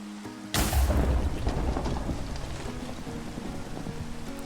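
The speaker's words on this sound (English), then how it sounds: "That struck us with lightning." A loud thunder crack from a lightning strike in modded Minecraft (GregTech New Horizons), bursting in suddenly and rolling into a heavy, sustained rumble over steady rain.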